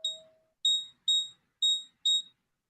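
A trading platform alarm for buy signals sounds off in a short run of high, piercing electronic beeps, about five bursts in an uneven rhythm after an opening tone, loud and close with no talk.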